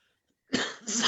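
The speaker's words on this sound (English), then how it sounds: "Sorry, smoker's cough." A smoker's cough bursts out after a moment of silence, one rough, harsh hack followed by a second raspy burst, close to the microphone and loud.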